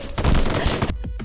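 Rapid burst of gunfire from a hunter's weapon in a multiplayer horror video game about hunting monsters, loud and dense for about a second before cutting off abruptly.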